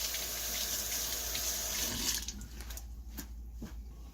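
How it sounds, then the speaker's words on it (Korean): Kelp rinsed under a running kitchen tap, a steady close splash of flowing water that stops partway, leaving faint drips and small knocks. "다시마를 한번 물에 헹궈 두겠습니다"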